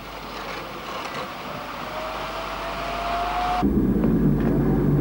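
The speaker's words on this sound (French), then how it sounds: "Les camions de chez Ferrari arrivent de Modène pour déposer leur matériel" Ferrari team transport trucks from Modena roll in, a rising whine giving way to a deep, loud engine rumble that swells as they draw nearer.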